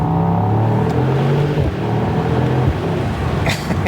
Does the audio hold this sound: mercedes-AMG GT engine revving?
yes